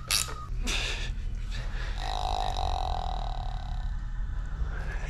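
A Fox 38 mountain bike suspension fork on a Mondraker Crafty RR, being serviced, burps air out through its bleeder valve in a drawn-out, gurgling belch, with a steady hum underneath.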